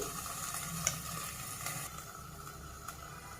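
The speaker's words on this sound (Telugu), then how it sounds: "ఇవి కూడా మనకి పచ్చిమిరపకాయ, ఎర్రగడ్డ కూడా వేగిపోతాయి" Green chillies and onions fry quietly in a pan with a continuous soft sizzle and hiss, broken by a few faint scraping stirs and no voices.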